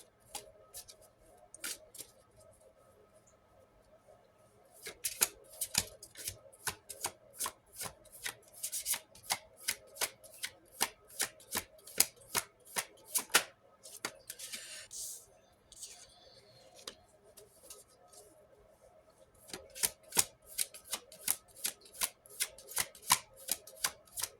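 Tarot cards being shuffled for a card reading, a long run of quick crisp riffles and snaps in bursts with short pauses between, close by and fairly quiet, with faint speech in the background.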